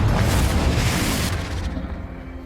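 Confringo explosion spell going off in the video game Hogwarts Legacy: one loud, deep booming blast that rolls into a rumbling decay, with no voices.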